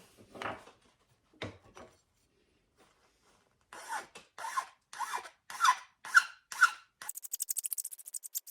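A wooden marking knife handle is filed flush with a rasp: a few scattered strokes, then a quicker rhythmic run of close, scratchy passes ending in a fast buzzing rasp, with no talking.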